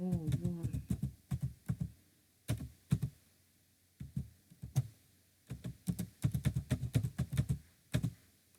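Keys clack on a computer keyboard in quick bursts with short pauses between them, close and crisp, with a few soft words spoken in Ukrainian near the start.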